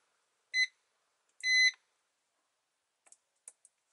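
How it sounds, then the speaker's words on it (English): Multimeter continuity beeps while testing fuses for a laptop-battery solar pack: two short high tones, the second longer, followed by faint clicks of the probes, quiet and close. "I will use my multimeter and let's listen for the sound."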